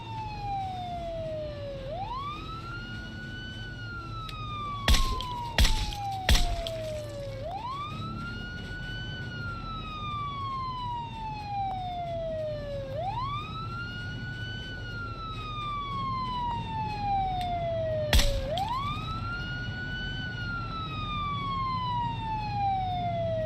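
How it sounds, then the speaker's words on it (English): An emergency siren in the video game Project Zomboid wails in repeated rising and falling sweeps, loud and steady, with a few sharp thuds partway through and no talking. "Oh, we hear that damn siren going off."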